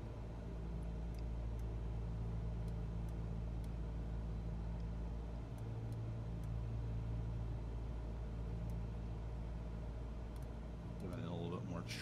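An aircraft engine with its throttle eased back in Microsoft Flight Simulator gives a steady, low, continuous drone that stays level throughout, and a voice briefly comes in near the end.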